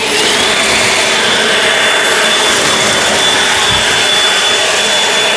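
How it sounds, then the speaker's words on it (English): An EGO Power+ LB7650 cordless leaf blower with a tapered nozzle runs steadily, a loud continuous high-pitched whine and rushing airflow, close by and without speech. "let's try the tapered nozzle"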